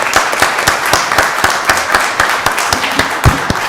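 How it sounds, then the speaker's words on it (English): Attendees at a Rockdale County Board of Commissioners meeting give a round of applause, with a steady patter of clapping from a modest group. Individual claps stand out close and loud throughout. "Let's give Landria a round of applause."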